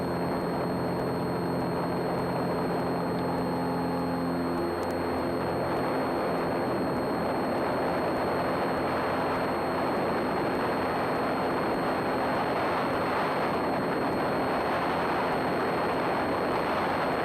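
A small single-engine airplane's engine runs at full RPM for takeoff, a steady loud drone with strong harmonic tones that roughens into broad roaring wind and engine noise as the aircraft rolls and lifts off.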